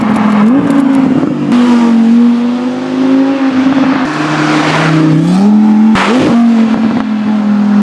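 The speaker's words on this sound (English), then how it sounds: "we're gonna get the car flying by." A supercar roars past at speed, its engine loud and close, revving and shifting as it approaches and passes, with a brief blip and surge near the end; no voices.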